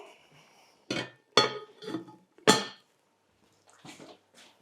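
A metal lid goes onto a pan of bolognese, giving several sharp clanks and rattles in quick succession, then a couple of softer knocks after a short pause.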